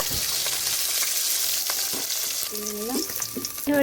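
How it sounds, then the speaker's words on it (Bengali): Fish sizzles steadily in hot oil in a pan in a Bengali home kitchen, with a few clinks and scrapes of a utensil near the end, close and loud with no talk. "মায়ের মাছ ভাজা হয়ে গেছে মা মাছ ভাজাটা তুলে নিচ্ছে"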